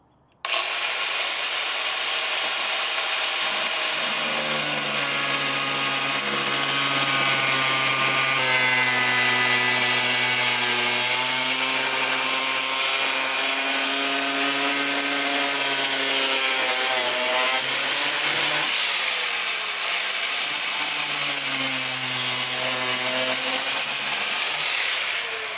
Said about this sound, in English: So I'm going to go ahead and cut this off